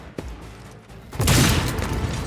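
A burst of heavy gunfire in a Warhammer 40k video game, a sharp shot followed about a second later by a loud, sustained roaring fusillade, close and booming, with no talking.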